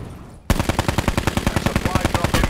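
Rapid automatic gunfire from Black Ops 4 Blackout bursts in after half a second of quiet, a steady loud stream of closely spaced shots running to the end.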